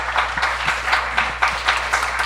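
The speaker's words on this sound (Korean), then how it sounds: "이준호 교수님께 다시 한번 박수 부탁드리겠습니다" Audience applause for lecturer Professor Lee Jun-ho at a talk event, a dense, steady wash of many hands clapping at close range that continues throughout without speech.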